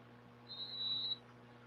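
A referee's whistle at a high school football game gives one sustained, shrill blast of about half a second. It is moderately faint over a steady background hum of the stadium.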